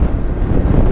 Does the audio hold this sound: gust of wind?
yes